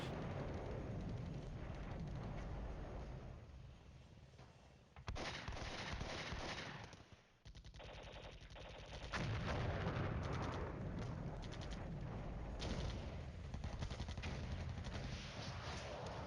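An artillery battery fires in the Cold War strategy game Flashpoint Campaigns, heavy booming salvos and explosions rolling together into a continuous low, rumbling barrage with a sharp break midway.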